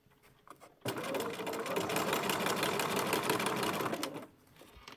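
A sewing machine runs fast and steady as it stitches over the seam of an invisible zipper, its rapid needle chatter starting sharply, holding constant for about three seconds, then stopping.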